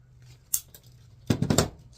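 Scissors snip through satin ribbon at an angle, one short sharp cut followed by a quick burst of louder crisp snips and rustling, close and alone.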